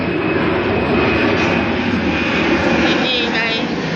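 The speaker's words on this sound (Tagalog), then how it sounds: "May aeroplano pang dumaan." A fixed-wing airplane passes overhead in the evening at a park, its loud, continuous engine roar filling the whole stretch while people talk underneath.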